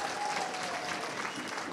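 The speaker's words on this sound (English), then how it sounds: "Give yourselves a round of applause." An evening audience at a Columbus local council event claps in a dense, steady burst of applause throughout, with faint crowd murmur.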